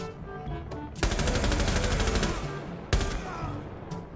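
Gunfire in the Rainbow Six Siege video game, with two loud bursts of rapid automatic fire, the first lasting about a second and a half, heard alongside faint in-game tones and background noise.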